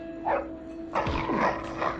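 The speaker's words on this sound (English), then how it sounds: "I heard barking." A dog in the video game Bully barks a few times in quick bursts, close and fairly loud over a steady background hum.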